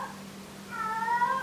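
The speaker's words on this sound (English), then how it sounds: "Sorry for the cat in the background." A cat meows in the background of a quiet room, giving one rising, drawn-out call over a low steady hum, with no speech.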